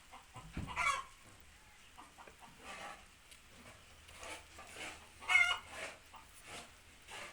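Chickens clucking nearby in uneven bursts, with soft squawks and scattered calls rising and falling.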